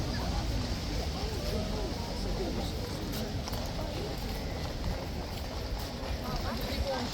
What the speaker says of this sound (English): Right, horses are coming back in.